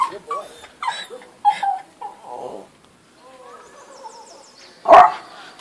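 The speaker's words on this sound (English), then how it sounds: "So, we've had a bunch of dogs trying to shit in our campground today, Aaron just ran four of them off." Dogs bark at a campground in Balanced Rock Park, several short yelps and whimpering barks near by, then a quieter stretch ending in one sharp loud bark.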